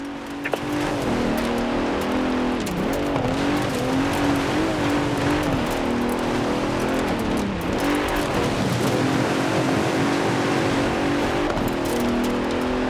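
Luxury cruiser car driving in Forza Horizon 4 as a race car, a continuous loud engine drone with wavering revs and occasional tire noise, close and unbroken.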